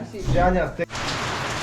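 Steady rain patters on a surface in a forest in Ukraine's Polissia region after a brief burst of talking in Ukrainian, a dense hiss of droplets continuing evenly to the end.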